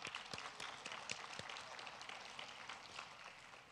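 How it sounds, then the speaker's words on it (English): Brief, faint audience applause at a school district State of the District event, a dense patter of many hands with a few sharper claps, fading toward the end. "give a round of applause"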